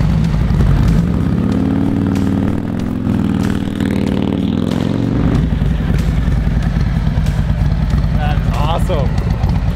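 A 2022 Harley-Davidson Road Glide ST with aftermarket exhaust, cam and tuner rumbles loud and close, a deep steady idle with a rise in revs partway through, while people talk over it.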